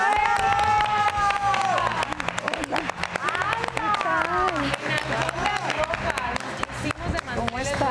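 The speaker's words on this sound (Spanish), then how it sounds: "Un aplauso fuerte" Studio audience on a Spanish-language TV show applauding and cheering as a guest walks on, dense clapping and crowd noise under a host's voice and shouts.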